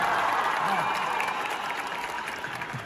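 Loud applause from an audience at the Influence House 4 reality show finale, a dense continuous burst of clapping with crowd noise that stays strong and steady, easing a little toward the end.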